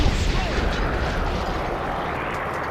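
Tank cannon fire at a Sherman in the video game War Thunder, played from an M6A1 heavy tank: a loud, close boom that opens the clip and leaves a long, dense rumbling decay.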